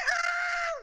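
A voice imitates a rooster's cock-a-doodle-doo in one short, loud, sustained call, close and alone with no other sound.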